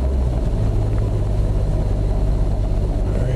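A 3.0 TDI diesel car engine runs at a steady idle, a dense low rumble with a rhythmic knock that holds close and loud without a break.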